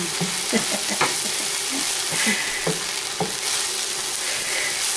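Onions fry in a pan with a steady, dense sizzle, broken by scattered clinks and scraping from stirring, close and continuous without talk.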